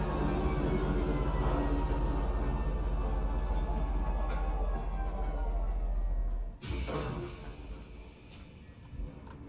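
A sci-fi train in Star Citizen pulls into a spaceport station, its steady low rumble and rolling hum carrying for several seconds before a sharp hiss of brakes or doors near the end, followed by quieter station ambience.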